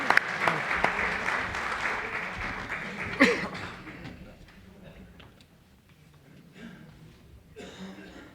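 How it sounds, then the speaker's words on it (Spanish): Audience applause at a talk on addiction and mental health, a burst of clapping loudest in the first few seconds that thins and fades, with some speech mixed in. "todos os merecéis esas gracias y ese aplauso"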